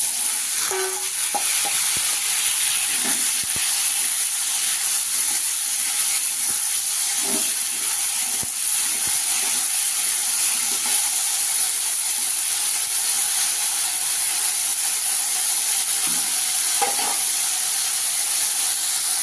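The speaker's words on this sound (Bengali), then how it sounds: "তারপরে আলুগুলো ছেড়ে দিলাম" Potatoes fry with panch phoron and dried chillies in a hot wok, giving a steady, loud hiss and sizzle throughout with occasional faint stirring clinks.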